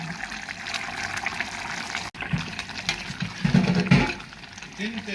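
Gongura chicken curry simmers in a pot, a soft bubbling and trickling of liquid running steadily beneath a person talking.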